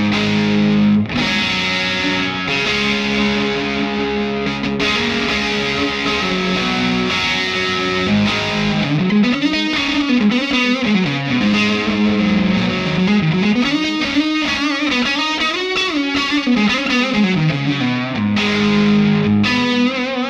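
A distorted electric guitar with Seymour Duncan Classic Stack Plus pickups, played through an amp with boosted treble, plays chords and then bending, wavering lead lines, loud and close with no talking.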